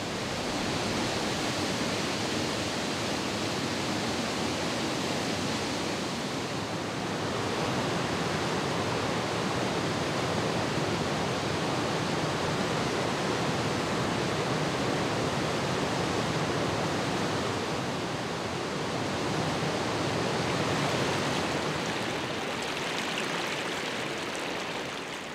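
River rapids at Araracuara rushing over rocks, a dense, continuous roar of churning water, loud and steady for the whole stretch with no other sounds.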